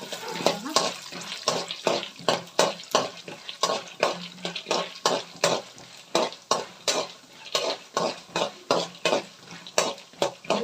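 Chana dal and urad dal roast in a pan until crisp for avalakki chitranna, with rhythmic scraping stirs about two per second over a light crackle.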